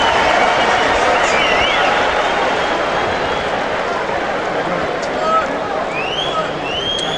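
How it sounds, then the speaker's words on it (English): A boxing arena crowd keeps up a steady, loud roar of cheering and noise throughout a fight between Derrick Gainer and Freddie Norwood, while a commentator talks over it. "Crowd trying to get Gainer going."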